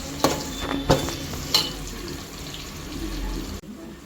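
Onions and ginger-garlic paste fry in a pan for pulao, giving a close, steady sizzle broken by three sharp spoon knocks early on, with a faint watery wash underneath and no talking.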